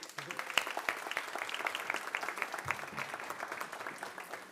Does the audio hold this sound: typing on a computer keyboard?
no